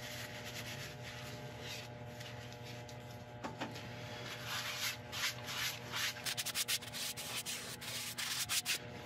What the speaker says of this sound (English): Buff this straight in, starting off at the slow speed and then building it up.